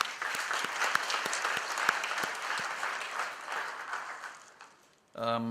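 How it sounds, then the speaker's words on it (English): A crowd applauds steadily for several seconds, a dense patter of clapping that fades out before a voice starts speaking. "just give them a big round of applause"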